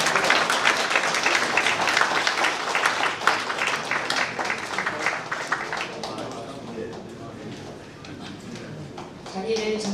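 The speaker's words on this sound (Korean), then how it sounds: "큰 박수로 환영해 주시기 바랍니다" Steady crowd applause welcomes a city mayor entering a public town-hall meeting in Naju, South Korea, continuing for several seconds before thinning out, with voices mixed in.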